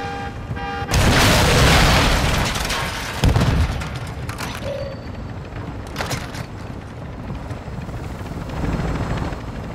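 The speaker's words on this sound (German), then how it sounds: "Werf eine Granate!" A grenade blast in the video game Call of Duty DMZ: heavy booming bursts, loudest near the start, over a constant loud helicopter rotor drone that continues throughout.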